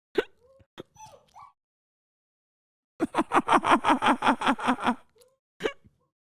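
A young puppy gives a few short whimpers, then a rapid run of rhythmic yelping cries and whines up close, ending in one more brief yelp.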